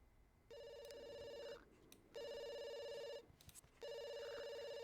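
A telephone rings in a life-simulation video game, with three evenly spaced electronic rings separated by short pauses, clear and unaccompanied by talk.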